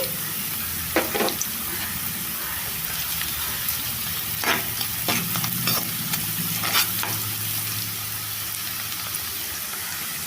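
Onion pieces with turmeric frying in a pan, giving a loud, continuous sizzle broken by scraping stirs of a spatula, all close up and with no talking.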